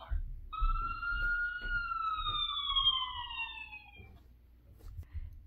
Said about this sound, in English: P is for police car.